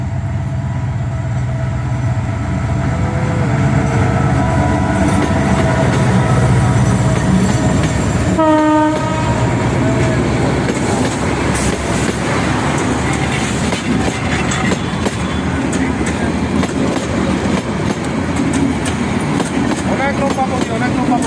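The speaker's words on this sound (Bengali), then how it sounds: "ট্রেনটা যাচ্ছে পিছনে দেখেন।" Karatoya Express intercity train rolling past with a long string of coaches, a loud steady rumble and clatter of wheels, with a brief horn-like tonal burst partway through and a voice talking over it.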